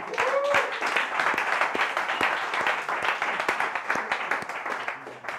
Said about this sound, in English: Come on, applause, guys.